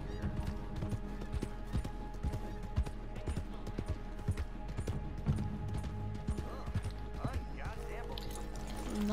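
Horse hooves clip-clop in an uneven rhythm alongside other game sounds and effects, with a voice talking over them.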